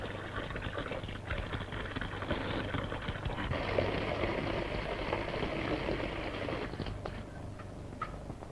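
Water pouring down in a stream, a continuous splashing wash with a fuller, louder stretch in the middle before it eases off.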